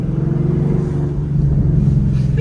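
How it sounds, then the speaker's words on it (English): Sports car exhaust in track mode, loud and close, a steady low rumbling drone with faint crackling burbles as the engine decelerates at low speed. "you're definitely gonna get some little burbles"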